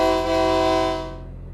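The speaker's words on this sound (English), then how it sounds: "1958 diesel locomotive engine." Horn of a 1958 diesel locomotive on a heritage railway in the piney woods near Rusk, a single loud sustained blast that fades out at the end, heard alone.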